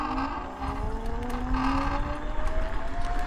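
An unrestricted electric scooter's rear hub motor whines with a rising pitch as it speeds up, over rumbling wind and road noise, fairly loud and close.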